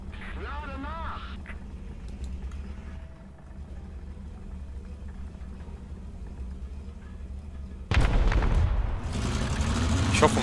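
Tank cannon fire in War Thunder, a Swedish tank match, comes as a sudden loud blast near the end after a stretch of engine rumble and faint game noise.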